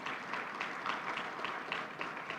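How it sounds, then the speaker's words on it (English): Audience at a community museum's digital archive launch event clapping in a steady, moderately faint round of applause, without talk over it. "So please give him and her a big round of applause."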